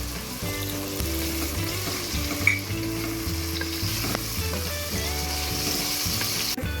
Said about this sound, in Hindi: अब इसमें ये अदरक लहसुन का पेस्ट मैं शामिल कर दूँगी और फिर इसको अच्छी तरह भून लूँगी